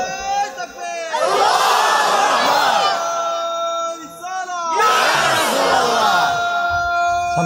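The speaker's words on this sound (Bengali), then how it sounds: "একটু জোরে তাকবীর দিতে হবো" A large gathering at a religious sermon roars takbir in unison, two loud sustained chants of many voices, each swelling and then fading, separated by a short lull.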